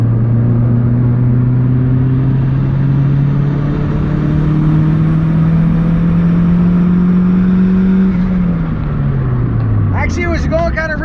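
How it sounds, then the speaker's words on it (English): Turbocharged Honda Civic engine pulling hard through third gear during street tuning, a loud steady drone rising in pitch for several seconds before dropping off as the throttle closes, with a brief burst of other noise at the end. "I'm gonna give her a third gear pull real quick here."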